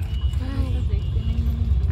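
Road traffic crawls in a jam near Badshahpur on the way to Prayagraj, a low steady engine rumble close by with a faint horn-like tone, while someone talks throughout.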